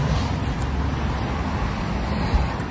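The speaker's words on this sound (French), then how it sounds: "on entend un petit peu les voitures, mais c'est assez insonorisé" Car traffic passing outside a soundproofed camper van comes through as a muffled, steady low rumble, faint and continuous, with no talk.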